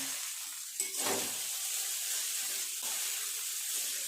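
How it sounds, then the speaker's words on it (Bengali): Vegetable chow mein stir-fried in a pan gives a steady, close sizzle, with a sharper scrape of tossing near the start and lighter stirring afterwards; no one speaks. "খুব ভালো করে সবজিগুলো চাউ একসাথে এইভাবে মিশিয়ে নিয়েছি নেড়ে চেড়ে।"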